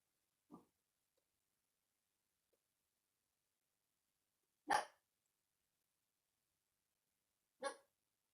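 A dog somewhere off in the distance gives three short, faint barks spaced several seconds apart, in an otherwise quiet room with no talking.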